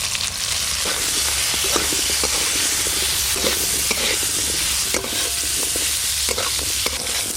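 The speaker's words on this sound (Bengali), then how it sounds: "মূলোগুলো ভালো করে নেড়ে নিয়েছি" Chopped radishes stir-fried in mustard oil with five-spice tempering, salt and turmeric hiss loudly and continuously while a spatula scrapes and turns them in frequent, irregular strokes.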